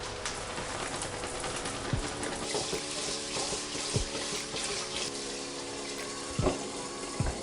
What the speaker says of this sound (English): Weigh and rinse the rice. You're going to rinse it very thoroughly until you get a very clear water.